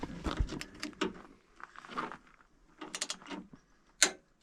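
A ratcheting wrench tightens the bolts of a factory steel bumper on a Jeep JL/JT, giving quick bursts of close metallic clicking with short pauses between them.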